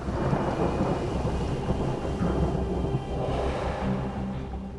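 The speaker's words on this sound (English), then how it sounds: "A thunderclap is heard for hundreds of miles around." A thunderclap from the falling 250-pound Ensisheim meteorite rolls out as a sustained deep rumble over a rain-like hiss, loud and even for several seconds and fading slightly at the end, with no voices.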